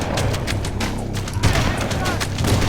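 Gunfire in the game Halo CE, a dense continuous fusillade of overlapping shots and booms, loud and steady throughout, with a voice talking over it.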